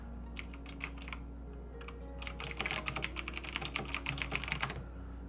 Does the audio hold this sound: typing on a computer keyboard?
yes